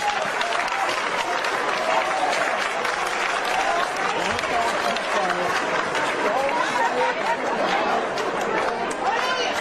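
Sustained audience applause and cheering after a political candidate's speech, a dense steady wash of clapping mixed with crowd chatter, continuous and fairly loud throughout.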